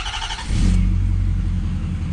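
A 2011 Ford F250 engine cranks briefly and catches right after a fuel filter change, settling into a loud, steady low rumble close by with no talking.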